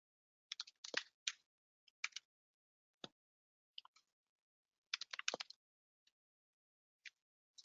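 Keystrokes on a computer keyboard while entering a host name, sparse clusters of crisp clicks separated by pauses, quiet and close with no voices.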